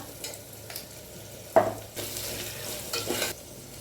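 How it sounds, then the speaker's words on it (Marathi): Onion and tomato sauté in a pan with a faint background sizzle, broken by a sharp clack and several bursts of spatula stirring. "टमॅटो घालून घेऊया लांब असे चिरून घ्यायचे आहेत ते सुद्धा थोडंसं परतून घेऊया"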